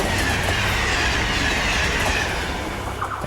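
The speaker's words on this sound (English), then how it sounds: "that train comes past" A train rushes past on a railway line, a loud continuous roar of wheels on track with faint clickety-clack, filling the whole moment with no voices.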